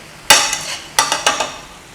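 Carbonara ingredients frying and being stirred in a pan, with a few sharp scraping strokes of a utensil over a soft sizzle, close and alone.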